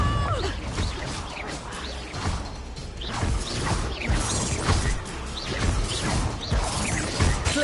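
Spell combat in Hogwarts Legacy on PS5, with a Confringo fire spell among a rapid run of casts: repeated whooshes, crashes and impact bursts arriving in quick succession, loud and busy.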